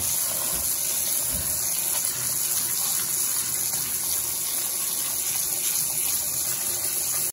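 A steady shower spray of running water rinses ume plums, a continuous hissing gush from close by with no talking.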